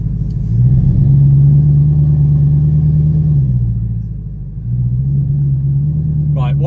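An Audi R8 V8 fitted with a Quicksilver titanium exhaust drones at a steady idle, with a deep, even rumble that dips briefly and then settles again, heard up close with no voices.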